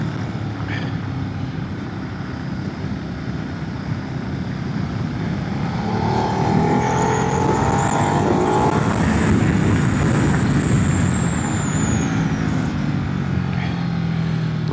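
A Ducati Multistrada V2 1200 motorcycle engine pulls hard under acceleration, heard on board as a loud, continuous roar mixed with heavy wind rush, its pitch climbing and then easing off.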